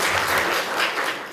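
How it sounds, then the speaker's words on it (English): Dense applause from a crowd, clapping steadily throughout at a fairly close, full level. "Let's give a round of applause to Rubini for her."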